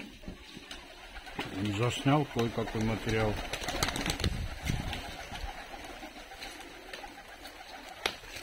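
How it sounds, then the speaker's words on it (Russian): Fighting pigeons at an evening feeding in Tbilisi, Georgia, give a few close, throaty coos in a short burst, while someone talks nearby. "Сегодня уже погнал голубей."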